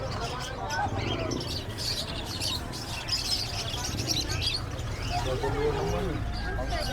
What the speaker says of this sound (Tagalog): daming ibon dito, African lovebird.